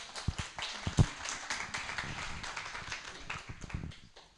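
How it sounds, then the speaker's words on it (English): Audience applause for the introduction of Representative Lauren Ashley Simmons at a charity golf tournament event, a scattered burst of claps with a sharp peak near the start, continuing at moderate level with uneven taps throughout. "can y'all give her another round of applause, please?"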